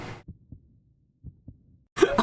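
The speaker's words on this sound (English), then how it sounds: "From somewhere distant, he hears it again, like a heartbeat." A heartbeat effect from the horror game Forsaker thumps in paired low beats, two doublets separated by near silence, soft and muffled, with a voice breaking in at the very start and end.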